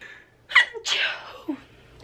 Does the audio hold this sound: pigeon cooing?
no